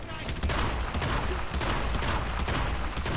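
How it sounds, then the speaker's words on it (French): Rapid, continuous gunfire in the Hitman video game, a loud rattling barrage of closely packed shots lasting the whole moment, close and dense with no gaps. "Je suis pas sûr qui je tire."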